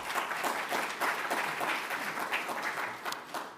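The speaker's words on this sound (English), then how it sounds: "I'm sure you can clap for the president." Audience at an investment summit claps for the president, a steady wash of many hands applauding at moderate volume, continuous without pause and with no speech over it.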